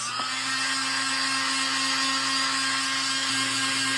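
Handheld dryer blowing on acrylic paint on a canvas for a beach scene, a loud steady whirring drone with a constant motor hum throughout.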